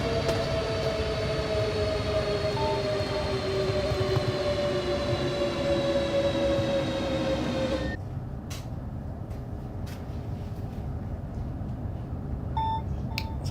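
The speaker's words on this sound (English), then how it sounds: "Oh, another train passes there." A train passes in Train Sim World 6 on the Southern High Speed line toward Ashford. A loud, steady rumble carries falling whining tones for about eight seconds, then cuts to a quieter hum with a few faint clicks and beeps.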